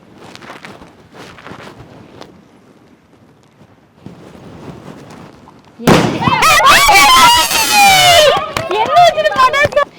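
Diwali firecrackers burst in a village celebration, a sudden loud, dense volley of sharp cracks and pops after quieter talk and footsteps, continuing with scattered bangs and crackle to the end.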